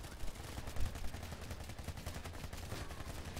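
Shots from a weapon in a video game, played during a training session: a rapid burst of gunfire, moderately loud and continuous, running for several seconds with no clear pauses.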